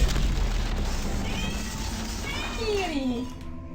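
A game cat in Vampire: Bloodlines lets out a drawn-out, wavering meow that slides downward near the end, heard over a dense, noisy background at moderate loudness.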